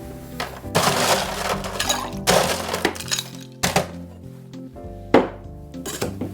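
Ice cubes are dumped into a cocktail shaker for a Brandy Alexander, giving loud close clattering crashes in several bursts, with clinks and thunks as the cubes settle between pours.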